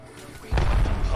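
Heavy booming video game gunfire erupts suddenly and rumbles on, with a voice talking faintly over the blasts.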